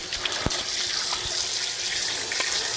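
Cold tap water runs steadily into a sink, rinsing sticky bread dough off, a close, continuous gushing splash with a few brief knocks and clatters underneath.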